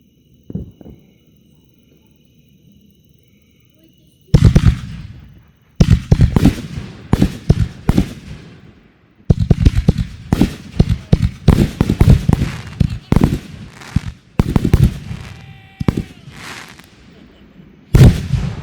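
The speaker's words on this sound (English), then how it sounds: "Canister shells with some big salutes at the end." Backyard fireworks display of canister shells ending in big salutes: a quiet lull, then a rapid string of loud, close booms and crackling bursts, some in dense clusters, continuing to the end.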